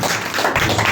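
A church fellowship congregation applauds for the Lord, a dense, loud wash of many hands clapping together without a break.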